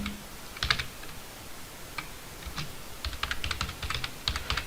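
Typing on a computer keyboard while entering text in a JavaScript coding lesson, heard as quiet, irregular bursts of key clicks that cluster more densely toward the end, with no talking.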